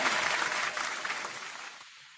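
A toy plays a recorded applause sound effect, a steady wash of clapping that holds for about two seconds and then fades out.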